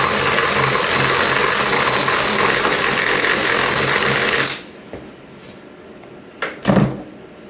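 A hand drill bores holes in a subwoofer cabinet for pop-in casters, running loud and steady for about four and a half seconds before stopping. Brief clicks and knocks follow in the quieter remainder.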